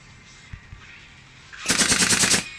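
Rapid automatic gunfire from the mobile game One Piece Bounty Rush erupts in a loud, dense burst of shots lasting under a second, after quieter game sounds with a few soft thuds.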